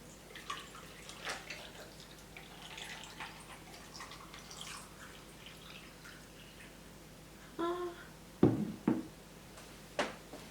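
Iced hibiscus tea trickles and drips faintly as it is poured at home, ending in a few louder splashes and clinks as some spills, with no voices.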